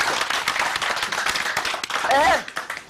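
Studio audience clapping on a comedy talk show, a steady wash of many hands applauding with a brief voice cutting through near the end.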